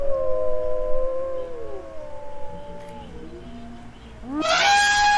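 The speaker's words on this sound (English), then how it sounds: "Wolf." A wolf howls in long, wavering, sliding tones that rise and fall. It is heard alone, and a brief harsh, noisy cry cuts in at the very end.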